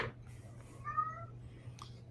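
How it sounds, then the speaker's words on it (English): A cat gives a single short, faint meow in the background of a quiet room, with a low steady hum underneath. "I hear the kitties in the background"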